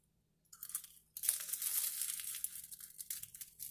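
Loud, close crunching as a crisp beef samosa is bitten and chewed, a steady run of crackly crunches with no talking.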